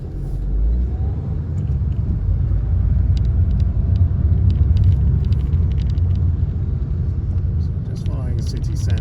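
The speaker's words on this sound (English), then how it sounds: "Into first gear, getting ready to go. Set the gas, and off we go." A learner's car pulls away in first gear at a city roundabout, a steady low engine rumble building and holding close and loud throughout, with faint clicks above and a voice talking over it.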